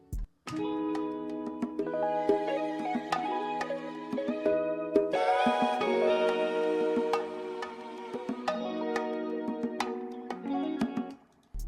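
A sustained Balkan Gypsy romantic violin melody loops, with several layered violin lines swelling together over soft percussive ticks, then stopping abruptly.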